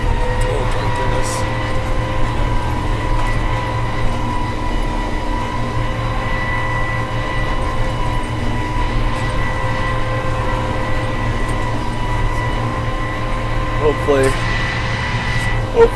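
A Krone Big M 1 self-propelled mower with hydrostatic drive runs in a field, giving a loud, steady droning hum with constant tonal whine from inside the cab, unbroken for the whole stretch.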